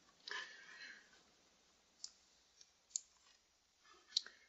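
A computer mouse gives a few faint, isolated clicks spaced a second or so apart in a quiet room.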